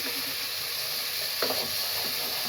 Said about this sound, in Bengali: মশলা ভাজা হয়ে গিয়েছে, তেল উপরে উঠে চলে আসছে